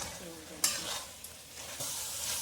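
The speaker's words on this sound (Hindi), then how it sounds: "इसको भूनना पड़ेगा, ऐसे भून लेंगे।" Guar bean pods roast in a pan, making a soft, low sizzle with a few quick stirring scrapes and clicks over a couple of seconds.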